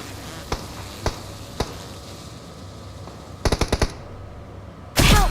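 Sniper and automatic gunfire in the mobile battle royale game BGMI: three sharp single shots spaced about half a second apart, then a rapid burst of five, followed by a loud whooshing blast, all over steady game ambience with no talk.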